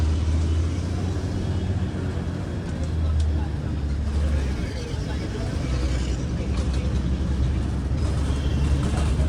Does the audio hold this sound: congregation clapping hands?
no